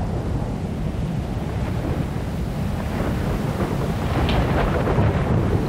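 Thunderstorm ambience in the puzzle video game Antichamber, a continuous loud rumbling wash of thunder and rain-like noise that swells slightly toward the end, with no speech.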